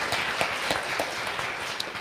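Audience applause at a community gathering: a steady, dense patter of many hands clapping, moderately faint and sustained, with a few sharper claps standing out.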